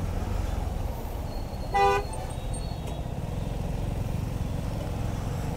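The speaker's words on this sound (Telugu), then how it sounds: "ఇంటర్సెక్షన్ పాయింట్ వలన ఇంత ట్రాఫిక్." Road traffic at a busy intersection, heard from a motorcycle, with a steady engine and road rumble throughout and one loud, short car horn honk near the middle.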